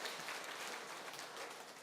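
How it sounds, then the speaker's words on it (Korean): Church congregation at a Korean Sunday service clapping together, a continuous soft patter of many hands, fairly faint and steady throughout. "박수 하시죠."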